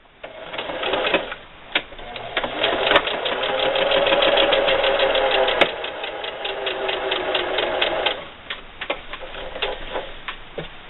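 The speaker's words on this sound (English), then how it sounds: "I'm going to start sewing." Sewing machine stitching a drawstring bunny bag at a quarter-inch seam, a rapid steady mechanical chatter that speeds up and slows with brief pauses and fabric handling.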